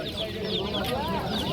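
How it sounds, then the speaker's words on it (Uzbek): Clucking young roosters fill a Mingbuloq Friday poultry market, overlapping calls near and far over steady crowd chatter. "Jo'ja horozlar ekan."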